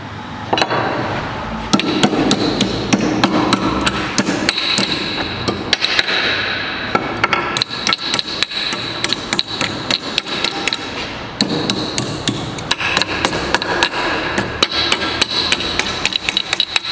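Rapid, continuous hammer strikes on the sheet-metal pillar near the window corner of a six-door VW Kombi under restoration, loud and close, with bursts of quick metallic taps and brief pauses.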